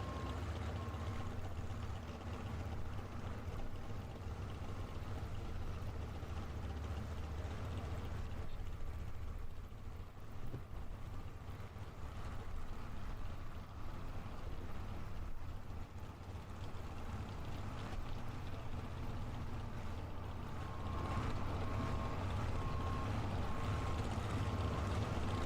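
Truck-pull exhaust from the Fireman's Express pulling truck, a faint, distant, steady low rumble that swells slightly toward the end, with no distinct bursts.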